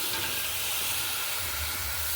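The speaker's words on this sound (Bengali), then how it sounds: "তো এই মশলাটা এই তেলের মধ্যে দিয়ে দিচ্ছি।" Spice paste frying in oil for rohu fish, a loud, steady sizzle and hiss that runs without a break, close and uninterrupted.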